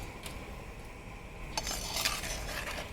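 A spoon stirs curry leaves into chutney in a hot pan, with soft scraping and light clinks against the metal over a quiet sizzle and a couple of sharper knocks.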